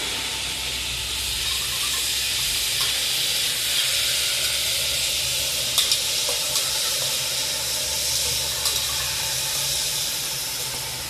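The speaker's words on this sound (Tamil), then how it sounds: "அடுத்து வந்து நம்ம தக்காளி போட போறோம். எல்லாமே நல்லா வதங்கிடணும்." Tomatoes sautéing in a hot pan for vegetable mutton biryani give off a steady, fairly loud hissing sizzle that runs throughout, with a few faint pops and clinks near the end and no talking.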